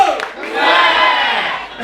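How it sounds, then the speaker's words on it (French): A crowd at a one-man comedy show erupts in loud cheering and shouting, a sustained swell of voices that rises and holds for nearly two seconds. "Applaudissez pour vous les femmes."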